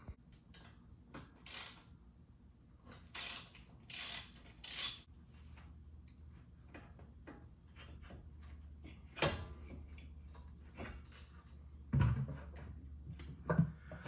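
A socket wrench works the brake caliper bolts on a 2004 Jeep Wrangler TJ during a hub assembly job, giving scattered close metallic clicks, ratchet ticks and clanks separated by quiet pauses in a garage.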